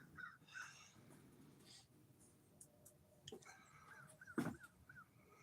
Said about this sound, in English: I hear a bunch of my crow buddies outside.